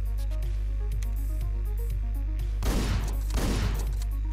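Two heavy shotgun blasts from the top-down action game Hotline Miami, loud and close. They land about a second apart over a steady, pulsing synth music loop.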